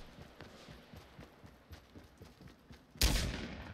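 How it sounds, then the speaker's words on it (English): A shootout at a lake in the video game Fortnite: a steady run of distant gunshots pops at an even pace, then a sudden loud, close blast bursts in near the end and slowly fades. "there's like a shootout happening here at the lake."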